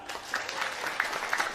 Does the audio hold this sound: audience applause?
yes